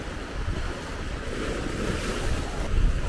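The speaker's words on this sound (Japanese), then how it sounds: "海めちゃくちゃ綺麗ですね。" Ocean waves wash steadily against a rocky shore beneath sheer cliffs on the Wakayama coast, a continuous loud surf roar mixed with gusty wind buffeting the microphone.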